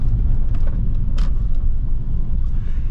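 A BMW 318ti E46 compact with its N42B20 four-cylinder rolls over rough city streets, a steady loud low road rumble and engine drone filling the cabin with scattered bumps and rattles throughout, no voices.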